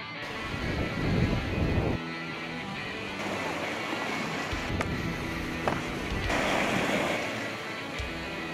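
Ocean waves surge and wash around Biri Island in a steady, loud roar, with gusts of wind buffeting the microphone the whole time.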